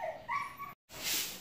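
A dog at home gives short yips and whimpers in quick bursts, close by, with a brief silent break partway through.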